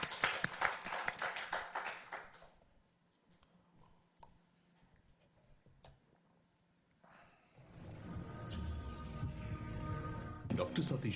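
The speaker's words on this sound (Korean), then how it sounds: "박수로 환영하도록 하겠습니다." Church congregation applauding to welcome a guest preacher at a worship service, a burst of clapping at the start, then a quiet gap, then a louder swell of crowd noise and clapping toward the end.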